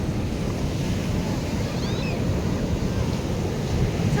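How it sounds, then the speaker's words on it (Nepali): Sea waves at Marina bridge, a steady rushing wash of surf mixed with wind buffeting the microphone, continuous and fairly loud. "यहाँको समुद्र मेरिना ब्रिज चाहिँ यति ठुलो समुद्र छ"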